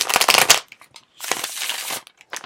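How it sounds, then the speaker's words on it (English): Tarot cards riffled in one good shuffle, three bursts of crisp papery flutter separated by short pauses, close and fairly loud, with no talking. "one good shuffle"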